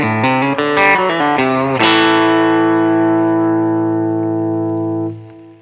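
Country guitar licks played slowly through a distorted effects setup, including a blues bend on the C: a run of plucked notes leads into a big ringing chord that sustains and slowly fades.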